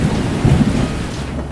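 Heavy rain pouring down with a deep roll of thunder, a loud, dense roar that fills a short stretch without any voices.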